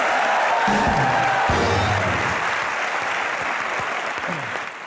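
A studio audience at a televised comedy show claps in loud, continuous applause with some cheering and a few voices underneath, tapering slightly at the close.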